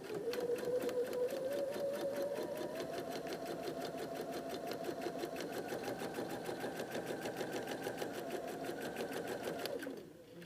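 Sewing machine stitching a foundation-pieced square-in-a-square quilt block, a steady rapid mechanical chatter running continuously at close range for about ten seconds before slowing to a stop.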